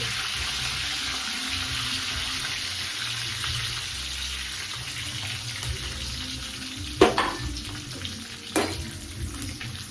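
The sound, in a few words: frying coconut and garlic in a pan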